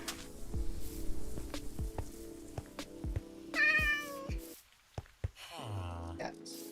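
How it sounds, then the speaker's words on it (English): A cat meows a couple of times, close and clear, over a backdrop of muffled thumps and faint game sounds in a room. "Cats."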